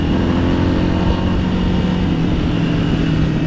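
A Yamaha Fazer motorcycle idles and revs at an illegal bikers' gathering on a highway, a steady loud exhaust drone with low throbbing pulses, close by and continuous.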